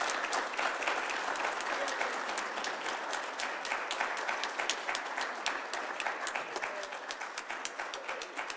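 A congregation at a Unitarian Universalist worship service claps for a newly welcomed affiliate minister, dense sustained applause from many hands, even and unbroken from start to finish.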